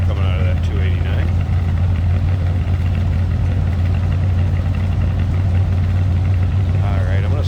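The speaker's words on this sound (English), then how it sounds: "Hear a little rumble coming out of that 289." A Ford 289 V8 in a 1966 Ford Fairlane 500 XL Convertible idles with a steady, deep rumble, low and continuous throughout, with a faint voice now and then over the top.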